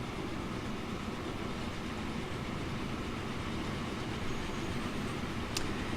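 A train running in the video game Transport Fever, a steady low rumble of rolling wagons with a faint high squeal near the end.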